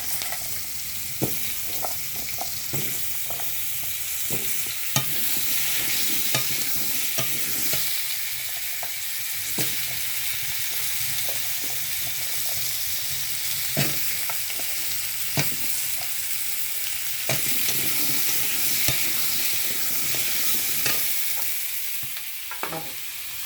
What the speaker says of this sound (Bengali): এটা আলু কটা ভেজে নেব সুন্দর করে।